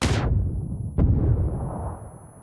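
A grenade blast in the battle-royale shooter PUBG during a league match: a single sharp burst about a second in, followed by a rumbling boom that fades under steady low game ambience.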